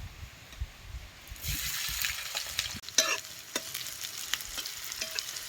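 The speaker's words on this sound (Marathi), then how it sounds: "कांदा बी तेलात चांगल्या लालसर होऊस्तोवर भाजायचा" Chopped onion and cumin seeds frying in hot oil in a village kitchen, with a steady close sizzle that swells as the onion goes in, plus occasional scrapes and taps of a stirring spoon.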